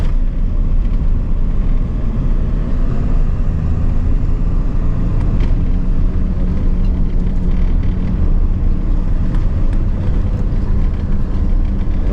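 A 1996 Ford Powerstroke diesel truck runs steadily, its engine giving a deep, even rumble up close that stays unchanged from start to finish, with no talking.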